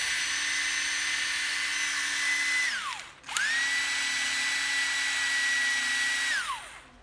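A used Japanese cordless drill runs twice, close and clear. Each time a steady high whine holds and then winds down, with a brief pause between the runs.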